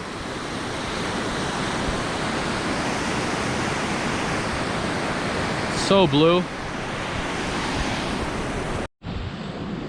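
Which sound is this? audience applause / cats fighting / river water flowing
river water flowing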